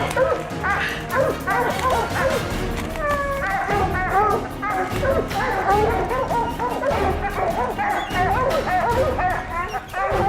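Hunting dogs bark and yip excitedly at a black bear treed in the woods, a dense, overlapping chorus of close, loud barks with whimpers mixed in, while a person talks.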